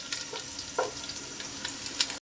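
Meat frying with garlic in a hot pan, a steady close sizzle with faint stirring scrapes throughout, no voices, ending in a brief silence.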